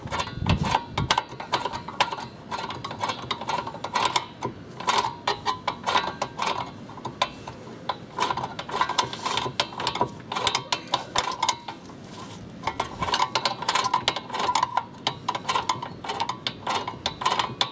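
Rapid ratcheting clicks as the left-hand thread rear brake adjuster on a VW T25 transporter is backed off, a steady close stream of ticking with a couple of brief pauses.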